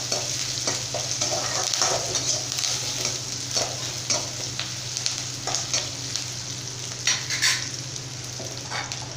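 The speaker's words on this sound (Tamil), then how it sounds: "இப்போ இதெல்லாமே சேர்த்து நல்லா நம்ம வந்து வதக்கி விட்டுக்கலாங்க." Chopped onions and curry leaves sauté in hot oil with mustard seeds and urad dal, a loud, close, continuous sizzle broken by frequent spatula scrapes against the pan. No one speaks.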